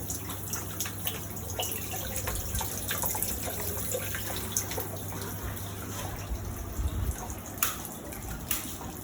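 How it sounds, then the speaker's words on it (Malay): Timer-controlled water runs steadily onto plant roots in a smart aeroponic growing system, giving a continuous trickling, splashing flow with faint drips, accompanied by a low steady hum from the equipment and no talk. "Apabila kita set kita punya timer, air akan mengalir mengikut arus dan siram ke akar pokok."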